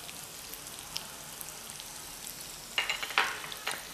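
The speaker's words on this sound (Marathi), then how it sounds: "त्यानंतर कोबी घालणार आहे।" Cabbage frying in a couple of spoons of hot oil in a pan, a quiet steady sizzle with a few louder crackling bursts and stirring scrapes near the end, no talking.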